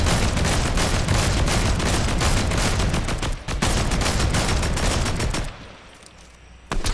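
Rapid automatic gunfire in a 2v2 jetpack shooter game, firing at a rock in a loud, dense, continuous stream that breaks off briefly once, then trails into quieter sound before a final burst.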